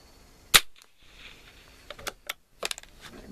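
Gunshots at an outdoor shooting range: one sharp, loud crack followed by a few fainter, scattered pops and clicks, with wind noise between them.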